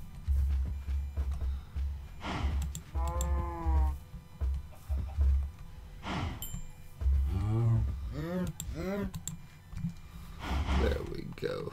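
Cattle on a video game cow farm moo in several harmonic calls, close and fairly loud, spread over the stretch between bursts of players' speech and low background rumble.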